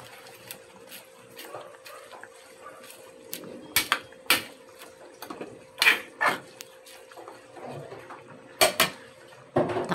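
A metal lid clanks onto a cooking pot of pork sinigang with sweet potato leaves and water spinach, giving several sharp clinks and rattles at close range over quiet kitchen background.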